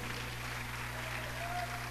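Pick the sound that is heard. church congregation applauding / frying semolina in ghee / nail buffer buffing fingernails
church congregation applauding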